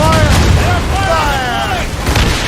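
Ship cannons fire in the Assassin's Creed Rogue video game, a steady rumbling barrage of booms under shouted voices and game sound, loud and continuous throughout.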